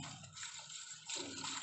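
Water is poured into gram flour for kadhi and the batter is whisked steadily to keep out lumps, giving a soft, continuous wet swishing that grows louder and denser near the end, close by with no talking.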